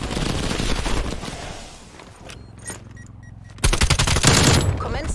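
Bursts of automatic gunfire from an AK-74u in Call of Duty Black Ops Cold War, a loud rapid volley at first, a quieter stretch with scattered shots, then another sharp, dense burst of rapid fire.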